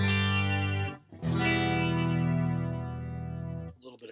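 Two sustained chords on a clean electric guitar through a Line 6 Helix with a shimmering chorus effect, each ringing out and slowly fading; no talking.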